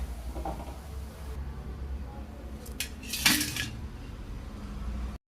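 Fried bottle gourd koftas, cooked to a deep brown, are lifted from the pan onto a plate with a metal utensil, giving a few sharp clinks and scrapes near the middle over a low, steady background hiss.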